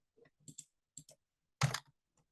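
Keyboard keys tapped by a finger wrapped in a band-aid, a few short clicking bursts spaced apart and one louder thump, close and alone.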